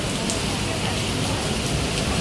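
Heavy rain pours down steadily during a flooded downpour, a dense continuous hiss filling the scene with faint voices underneath.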